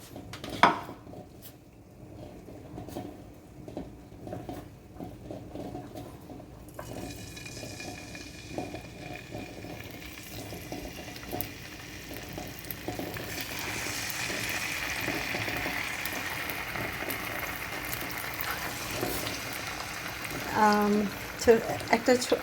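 Cooking oil heats in a pan ahead of frying koi fish with radhuni spice, a soft sizzle that swells into a steady hiss in the second half, with occasional utensil clinks and a person talking over it.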